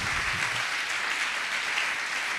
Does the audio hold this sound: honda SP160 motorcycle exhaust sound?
no